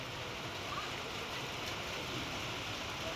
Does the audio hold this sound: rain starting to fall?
yes